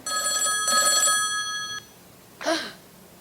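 An old telephone bell rings loudly in two bursts. Its metallic tone cuts off, and a short vocal sound follows.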